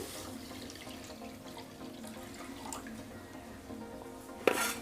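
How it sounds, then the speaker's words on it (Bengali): 500 grams of cow's milk poured into a wok for coconut ice cream: a faint, steady liquid pour that ends with a short metallic clink. "আমি কড়াইতে যে 500 গ্রাম গরুর দুধ নিয়েছি সেই দুধটা এই কড়াইয়ে দিয়ে দিচ্ছি"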